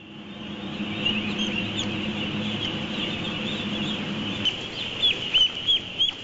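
Chickens packed into a crowded poultry shed make a steady, dense chorus of clucks and chatter. A few louder, sharper calls cut through near the end.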